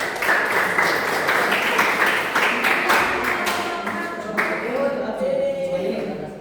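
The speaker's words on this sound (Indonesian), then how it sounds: "tepuk tangan dulu untuk kelompok 1" Students in an eighth-grade classroom at a junior high school clap for a group, a steady wash of many hands lasting several seconds at moderate loudness, with scattered louder claps and faint voices mixed in toward the end.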